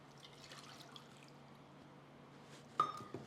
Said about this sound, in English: Pour 1 cup of water or about 250 milliliter.